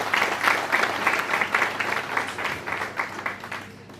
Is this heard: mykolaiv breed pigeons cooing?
no